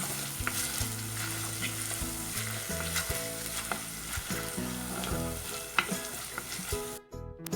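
Crushed ginger and seven cloves of garlic fry in a pan for a Kerala-style sardine chilli curry, giving a steady, close sizzle with occasional stirring scrapes under continuous background music.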